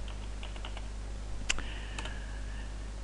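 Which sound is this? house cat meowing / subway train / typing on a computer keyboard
typing on a computer keyboard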